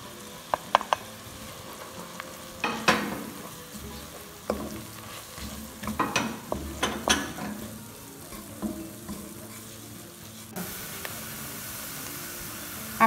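Flour being stirred into onion and garlic sautéing in a pan, a steady soft sizzle with scraping stir strokes clustered in bursts, close and moderately quiet, no talking.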